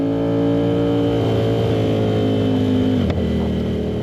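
An Aprilia RS660 with a CRT exhaust on the Barber Motorsports Park track makes a loud, steady engine drone with strong harmonics, briefly dipping around a gear change before carrying on close up.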